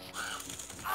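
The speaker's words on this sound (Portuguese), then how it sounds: "cadê o corvo desgraçado que vai aparecer aqui?" A crow caws in Resident Evil Deadly Silence, the game's hostile bird enemy: two short, harsh, nearby calls within about a second, heard alone over a low ambient backdrop.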